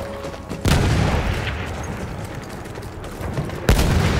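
Gunfire in the video game Battlefield 1, with loud booming bursts of shots, a sharp heavy blast near the start and another near the end, and dense crackling fire in between.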